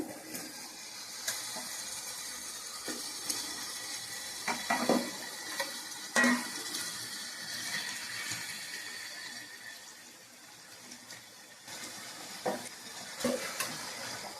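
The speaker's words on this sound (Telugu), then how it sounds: "ఇప్పుడు చికెన్ అయితే ఇందులో వేస్తున్నాను" Large washed chicken pieces fry in a pot for chicken biryani, giving a soft, steady sizzle broken by intermittent scraping stirs, fairly quiet and close.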